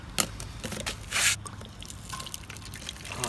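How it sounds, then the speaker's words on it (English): Water drains out of an old air compressor tank not emptied in about ten years, dribbling and spattering into a container on a driveway, with a brief louder gush midway and steady wet trickling throughout. "draining that compressor. There's a bunch of water in there."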